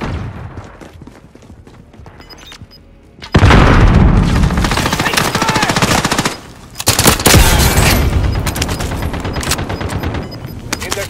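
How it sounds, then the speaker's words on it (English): A flashbang grenade going off in the game Warzone, a loud sudden blast followed by sustained rapid gunfire, with another sharp burst midway, all close and dense. "Fire Flashbang going out."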